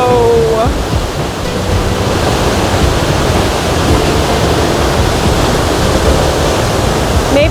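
A steady, loud roar of falling water from a waterfall in a North Carolina temperate rainforest fills the air continuously, with a voice speaking briefly at the very start.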